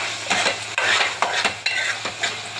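A spoon stirs Telangana-style mutton keema curry in a pan over low flame, giving rhythmic scraping strokes over a soft sizzle, close up, with no talking.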